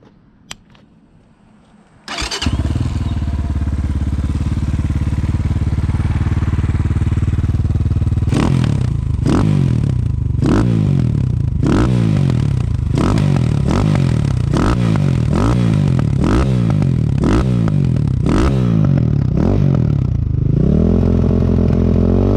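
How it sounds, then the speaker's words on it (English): A 2022 Templar 250cc motorcycle starts up and idles close by, then its exhaust barks through a series of sharp throttle blips in a steady rhythm before settling back to a rumbling idle. "You have a beautiful exhaust right here, and it sounds super nice. Here's an exhaust clip."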